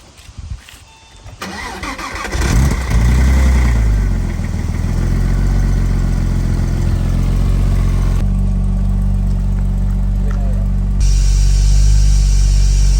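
A Porsche 986 Boxster engine fires up after a brief crank and settles into a loud, steady idle close by, with a slight shift in tone partway through and no talking.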